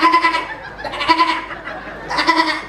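A voice imitates a goat's bleat, giving three wavering, nasal bleats rising in pitch, loud and close, with short pauses between them.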